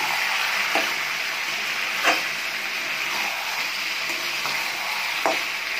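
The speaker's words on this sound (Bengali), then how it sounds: "এবার আমি মশলাটা ভালো করে কষে নেব।" Spice paste with turmeric, chilli powder and ground green chilli sizzling steadily in a pan for chicken curry, with a continuous frying hiss and occasional soft scrapes from stirring.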